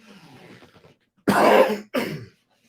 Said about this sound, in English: I'm coughing up a storm here.